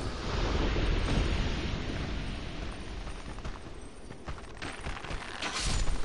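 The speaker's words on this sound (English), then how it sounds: "Oh, these dudes explode!" Enemies exploding in the Dark Souls 2 game, heard as a sustained roaring, crackling blast with broad rumble that swells at the start and again near the end, loud and filling the scene without voices.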